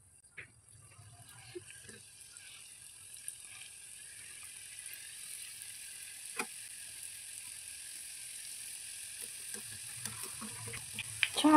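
Modaks frying in hot oil give a steady, soft sizzle that builds gradually, with occasional pops and a small clatter near the end.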